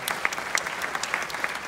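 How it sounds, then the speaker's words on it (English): Applause from a small group of family members cheering an actress at the Cinecon 2022 film event, a steady patter of clapping with a few louder distinct claps, moderately close, no voices. "of her 4 grandsons, Nico, Drew, and Cooper, are all here tonight cheering on Grandma."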